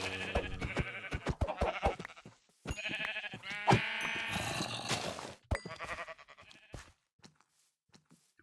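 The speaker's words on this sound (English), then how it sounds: "Oh, my sheep." Repeated blocky sheep bleats from a Minecraft-style game, several calls in quick succession at close range, with a little game noise and no talking over them.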